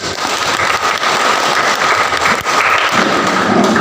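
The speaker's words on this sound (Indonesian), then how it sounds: "Boleh tepuk tangan Bapak Ibu?" A church congregation breaks into loud, dense applause that fills the room from start to finish, with a continuous rush of clapping and no voices heard.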